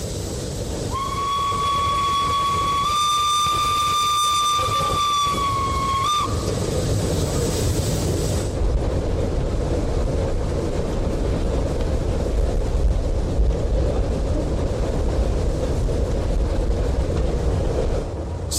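The Pacific 231 K 8 steam locomotive runs at speed on the Calais–Paris line, opening with a sustained whistle blast before a loud, steady rumble of wheels and rails rolls on unbroken.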